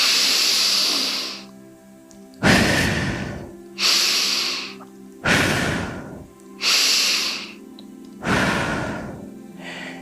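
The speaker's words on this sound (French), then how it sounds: "je vais effectuer 3 respirations toniques" Three deep energizing breaths during a guided sophrology relaxation session, each a long loud exhale hiss followed by a softer inhale, repeated in a slow regular rhythm, close to the microphone with no talking.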